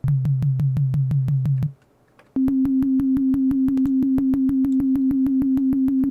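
A buzzy synthesizer tone pulses in rapid, even repetitions, breaks off briefly, then returns at a higher pitch, each stuttering note giving a slight falling feel.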